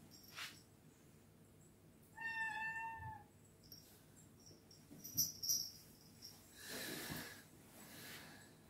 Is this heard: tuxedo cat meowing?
yes